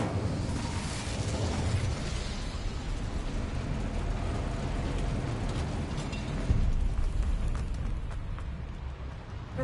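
Incendio fire spell cast in Hogwarts Legacy, a loud roaring burst of crackling flame and rumble that swells again near the end, with no talk over it.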